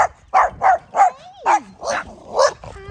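Several dogs give short, sharp barks and yips in a quick irregular run, with a whimpering whine in between, close and fairly loud over a quiet background.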